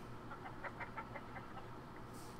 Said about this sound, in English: Let me just play the chicken.